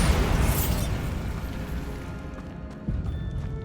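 A Bombarda spell explosion in the Hogwarts Legacy video game: a loud, booming blast that decays into a rumbling tail, followed by a second, smaller thud near the end.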